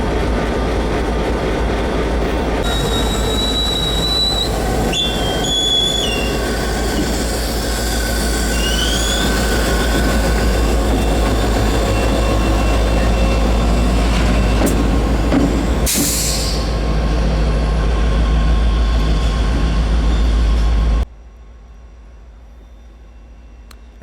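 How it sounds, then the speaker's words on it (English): EMD SD50 diesel locomotives rolling toward a switch, with a loud steady rumble, drawn-out wheel squeals and clanks over about twenty seconds before the sound drops off sharply. "The intermodal passes and our locomotives detach and make way to the switch where we'll start the return trip."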